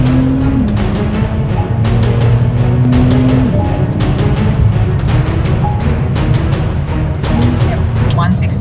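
A Porsche 911 with ceramic brakes runs fast on a race track, giving a continuous engine drone that steps in pitch with shifts, heard from inside the car under people talking.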